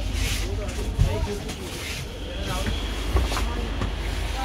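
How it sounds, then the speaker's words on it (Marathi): Rumble and rattle from inside a moving local train in Mumbai, with steady low wheel noise, a few clunks of the carriage and people talking over it. "गाईस फायनली ट्रेनमध्ये बसलेले"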